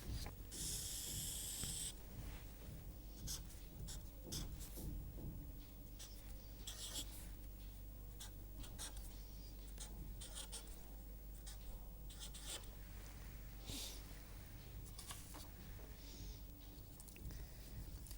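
Pen scratching steadily across paper while a graph is sketched during a lecture on filter banks, a close, continuous rubbing with short strokes and pauses, no talk.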